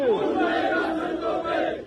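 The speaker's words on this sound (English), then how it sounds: "proclaims this militant to a cheering crowd" A crowd at a Hindu militant's rally roars and shouts in a dense, continuous wash of cheering voices, loud and close throughout.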